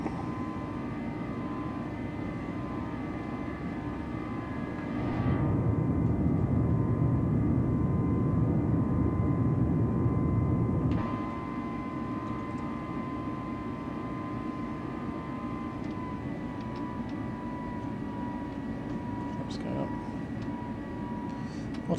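An A320 airliner (FlyByWire A32NX) takes off in Microsoft Flight Simulator 2020, a steady jet roar that swells louder for several seconds mid-clip before settling back to a constant engine drone.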